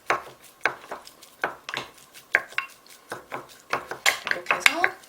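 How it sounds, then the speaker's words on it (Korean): A wet wooden paddle works through freshly vinegared sushi rice for tuna kimbap, giving repeated soft scraping and clacking strokes against the bowl in an irregular rhythm, close by and moderately loud, with no talk. "그러고 난 다음에 주걱을 이용해서 섞어주는데 주걱은 약간 앞부분에 물기를 조금 묻혀주세요"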